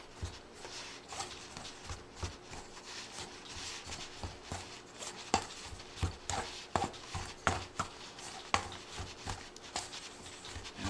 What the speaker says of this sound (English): I'll look at my pastry blender here, and I'll scrape occasionally with a knife, and then give it one more go around here.